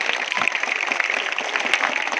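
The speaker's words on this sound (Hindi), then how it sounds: "उनके लिए जोरदार तालियां एक बार वापस से।" Enthusiastic applause from an audience at a school Republic Day celebration for the children who performed, dense sustained clapping from many hands, loud and close, with no pause across the whole stretch.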